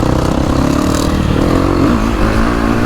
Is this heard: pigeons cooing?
no